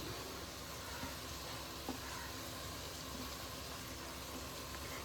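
Tomato masala with mint and coriander sautéing in a pan for mutton biryani, an even, close hiss of frying with a faint stir or clink here and there, no voices.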